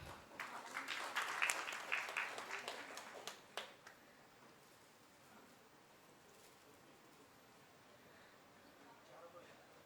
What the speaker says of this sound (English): Can everybody clap, please?